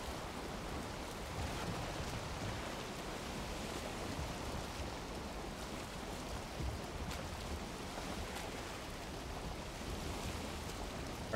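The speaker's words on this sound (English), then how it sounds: "It's raining, but it's not like thunder and lightning" Steady, even hiss of rain falling continuously in the video game Valheim, soft and constant with no thunder or other sounds standing out.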